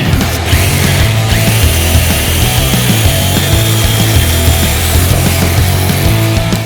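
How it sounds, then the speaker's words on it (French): A power saw roars steadily as it cuts through a wooden log while building furniture, loud and close, with a continuous buzzing drone throughout. "La scie mécanique."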